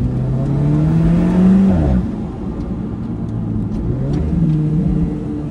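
An Alfa Romeo sports car engine revs up loudly from inside the cabin, its note rising to a peak before dropping off and settling into a steady rumble that lifts again briefly.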